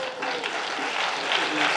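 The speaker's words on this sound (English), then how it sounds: "Can I have the middle school students stand up for another round of" A concert audience applauds middle school students at a spring concert, a brief burst of full, steady clapping filling the room.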